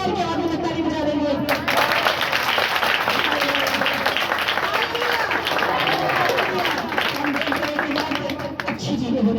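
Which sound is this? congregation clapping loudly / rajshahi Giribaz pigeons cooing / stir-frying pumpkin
congregation clapping loudly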